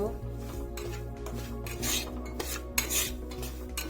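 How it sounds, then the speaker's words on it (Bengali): Semolina lightly frying in hot oil in a pan as it is stirred, giving a steady low scraping and rustling with soft clinks of a utensil against the metal, fairly close and continuous, with a low hum underneath. "এখন সুজি কটা অল্প কাঁচা গন্ধটা যাওয়ার জন্য অল্প হালকা করে ভেজে নিব"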